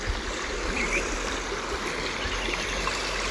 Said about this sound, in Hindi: नाला यहाँ से भी बह के जा रहा है